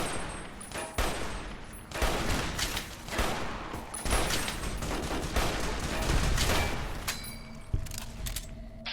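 Rifle fire in Fallout: New Vegas, a rapid volley of loud overlapping shots and booming impacts that continues nearly without pause, with brief ringing tones and a few quieter gaps near the end.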